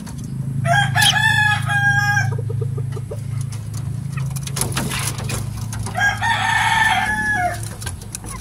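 Mestizo gamefowl roosters crow loudly and close by, two long cock-a-doodle-doo calls separated by brief clucks, over a steady low background hum.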